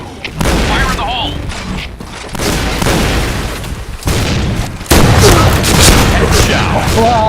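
Grenades explode in a first-person shooter video game: several heavy booms land a few seconds apart amid bursts of gunfire, with game voices calling out in between.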